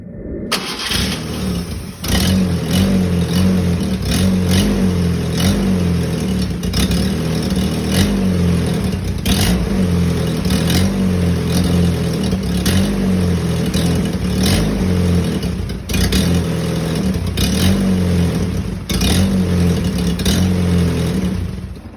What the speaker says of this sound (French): Donc on passe tout de suite au démarrage de la Simca 1000.